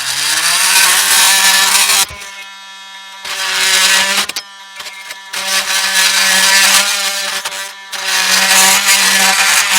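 Hacksaw blade cutting during a kitchen ceiling light replacement, heard as loud, harsh, steady cutting noise in long bursts with short pauses between strokes, close to the listener and without talking.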